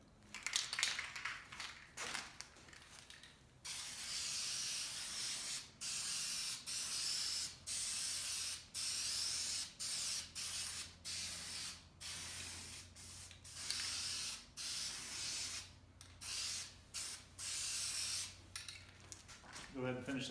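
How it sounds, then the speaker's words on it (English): Gray spray paint hisses onto the base of a DIY Halloween pneumatic prop in a series of short, close bursts, each a few seconds long and separated by brief pauses. "I'm going to go ahead and spray paint the bottom of it the gray color"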